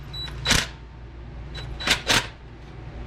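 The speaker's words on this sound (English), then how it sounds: "So we're going to torque them." Sharp clicks from a torque wrench tightening bolts on the rear main seal plate of a 2004 Chevy Avalanche with an LS 5.3L engine: one click, a pause, then two more in quick succession, crisp and close.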